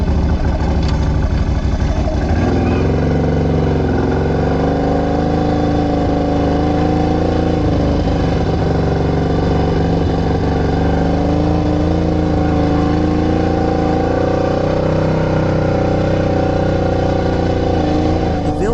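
A car drives steadily through a rural village, its engine droning loudly and continuously from inside the cabin with slight rises in revs and no voices heard.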